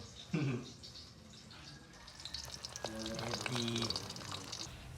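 Two eggs and a hotdog frying together in a pan, a steady sizzle that grows louder partway through, with a voice speaking over it early on.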